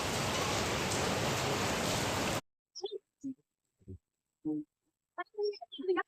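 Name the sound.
heavy rain falling outside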